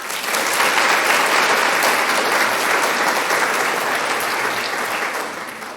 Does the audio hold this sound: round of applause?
yes